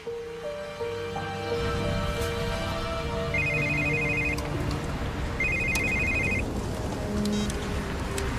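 A landline telephone rings in two clear electronic bursts, one after the other, over a steady background hiss, loud and close with no talking.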